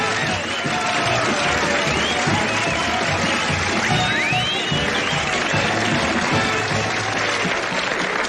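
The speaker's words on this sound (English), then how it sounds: "it's so good to hear that applause" Sustained audience applause mixed with crowd murmur and some cheering, in a scene from a western TV series; the clapping stays loud and continuous throughout.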